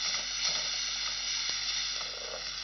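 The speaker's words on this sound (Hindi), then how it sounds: "अब इसी तेल में आप मिंस्ड अनियन ले लें या ग्रेटेड प्याज भी ले सकते हैं।" Minced onion frying in hot oil in a pan for paella, a steady soft sizzle and hiss running evenly throughout with no talk.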